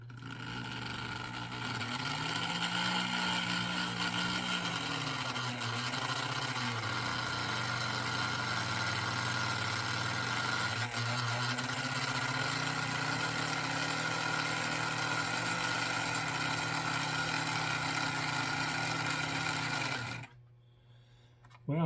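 A restored American Flyer 23796 sawmill toy accessory, wired straight to a transformer, runs with a steady mechanical hum and buzzing motor whine. The pitch rises and dips as it labors, then cuts off near the end.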